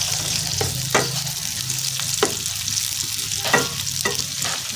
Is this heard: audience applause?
no